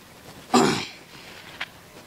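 A single sharp, close cough or throat-clear bursts out, followed a moment later by a faint, brief sound in an otherwise quiet background.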